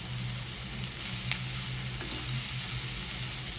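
About a quarter kilo of bitter gourd fries with curry leaves in a pan. A steady, close sizzle of frying continues evenly, with a faint stir or clink partway through and no talk.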